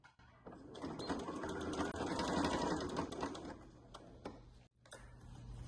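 A domestic sewing machine stitches a fabric beach bag's gusset, its rapid mechanical ticking running steadily up close with a brief pause before resuming.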